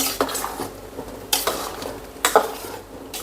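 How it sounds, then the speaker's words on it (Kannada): A vessel filled with water is set on top of a covered plate over a stove while cooking breakfast, producing a few sharp metallic clanks and scrapes over a faint background hiss. "ಒಂದು ಪಾತ್ರೆಯಲ್ಲಿ ನೀರನ್ನ ತುಂಬಿ ಅದ್ರ ಮೇಲೆ ಇಟ್ಟುಬಿಡ್ತೀನಿ"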